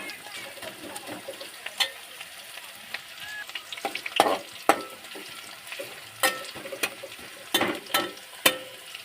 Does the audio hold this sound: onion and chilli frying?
yes